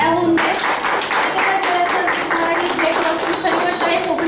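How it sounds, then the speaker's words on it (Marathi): Audience clapping at a Ganesh festival gathering: brisk, dense applause from a crowd that continues steadily for several seconds, close and fairly loud. "जोरदार टाळ्या होऊन दे."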